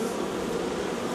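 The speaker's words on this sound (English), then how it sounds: "Loud bees." Loud honeybees buzz in an opened hive during a brood inspection, a dense, continuous close-up drone with no break and no talking.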